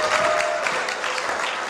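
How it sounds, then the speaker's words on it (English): An improv show audience applauds in a short, dense burst of clapping that stays fairly even throughout. "Let's applause McGwire into the room."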